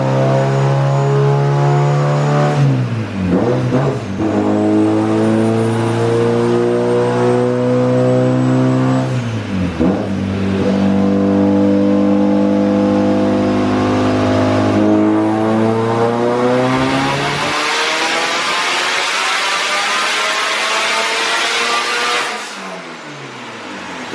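A car with a turbocharged SR20DET engine, built and freshly tuned for drifting, accelerates hard through several gears, its engine note rising and dropping at each shift while the turbo spools with a rising whoosh; loud, close and continuous, with no talking.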